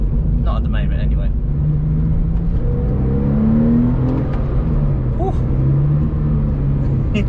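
A Porsche 911 996 engine with stock exhaust revs and rises in pitch, a throaty exhaust hum under someone talking throughout.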